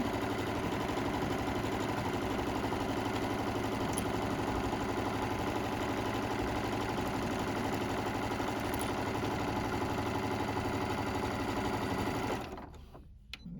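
A sewing machine stitches the sides of a tote bag in one long, steady, close run before stopping abruptly near the end.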